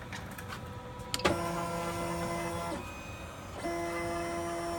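INKREDIBLE bioprinter printing a model, with clicks and then sustained whining stepper-motor tones that stop, shift pitch and resume, fairly quiet and close, with no talking.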